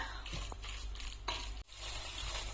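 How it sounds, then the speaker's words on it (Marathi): Marinated soya chunks sauté in masala with a soft, fairly quiet sizzle over a low hum, with a few light scrapes from stirring and a brief dip near the middle. "आता छान आपण हा सोयाबीन जो आहे तो आपल्या ह्या मसाल्यात सुंदर परतून घेतलेला आहे"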